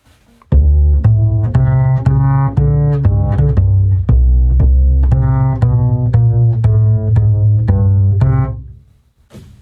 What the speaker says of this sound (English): So the bass line will now sound like this.